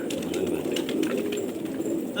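Pigeons in a loft cooing steadily, a low murmuring coo that runs without a break, with rustling and brief voices mixed in.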